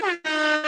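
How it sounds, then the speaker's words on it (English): An air horn sound effect blasts in two close bursts, a bright, brassy, sustained tone cut by a brief gap, loud and upfront. "Go ahead and get him some air horn."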